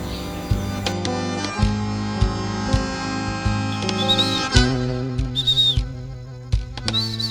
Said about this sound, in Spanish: Hacemos un chiflete nosotros y lo llamamos a los patos